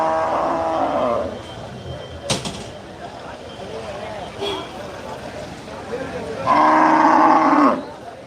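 Cattle low loudly nearby at a livestock market in Melur, two long moos at the start and end, with scattered knocks and faint background noise between them.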